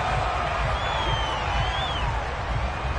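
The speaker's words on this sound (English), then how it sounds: "Plenty of shouts from this crowd as they watch the replay" American football stadium crowd watching a replay, a continuous roar of many distant voices with scattered shouts and a rising whistle-like cry, steady and loud throughout.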